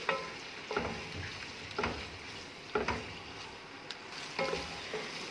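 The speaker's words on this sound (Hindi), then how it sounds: "चिकन को 4-5 मिनट के लिए मैंने फ्राई कर लिया है।" Boiled chicken frying in ghee for chinese pulao, a soft steady sizzle broken by periodic stirring scrapes about once a second, close and fairly quiet.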